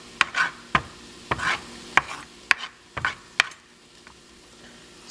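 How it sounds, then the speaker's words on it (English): A knife slicing a seeded pepper into strips on a cutting board, about a dozen sharp close thuds and crunches in an uneven rhythm, no voices. "Slice it down here, slice it down here, slice it down here, and just make yourself some nice strips."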